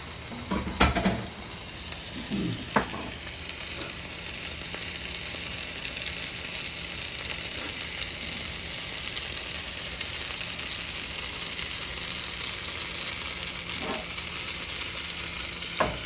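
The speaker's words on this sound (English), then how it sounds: "Our pan should be nice and hot now. So we're gonna set it there. Get that sizzle." Filet mignon sizzling loudly in a hot pan, a steady crackling hiss that builds after a brief clatter of placing it down.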